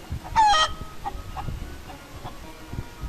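A hen in a spoken children's farmyard tale gives one short, close call. It is loud and abrupt and comes early, then the rest is quiet, with only faint low background noise.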